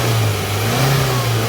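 A Suzuki Cultus EFI car engine revs as the accelerator is pressed, a steady mid-pitched drone with a low hum underneath, held loud and close for a moment with no talking.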